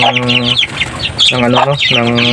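Aseel chickens cluck close by in a few repeated bursts of harsh, throaty calls separated by brief pauses.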